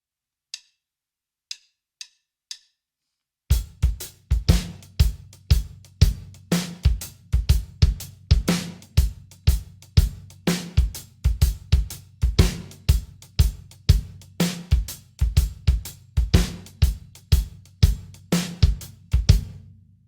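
A drum kit plays a half-time shuffle, cycling a two-bar pattern with steady backbeat hits and ghosted shuffle strokes, loud and close, after a few quiet ticks at the start.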